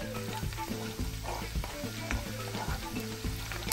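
Garlic, scotch bonnet pepper, onion and thyme fry in butter for an herb butter lobster dish, a steady close sizzle with spoon stirring and scraping in the pan.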